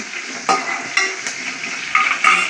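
A dal tempering of curry leaves and asafoetida sizzling in a pan while a spoon stirs it, with soft frying hiss broken by several sharp scrapes and clinks of the utensil against the metal.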